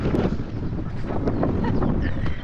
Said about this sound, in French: En plus, il y a du vent